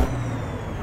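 Air brake on a Ford Aeromax truck in American Truck Simulator, a steady loud hiss of released air with a low rumble underneath, lasting under a second.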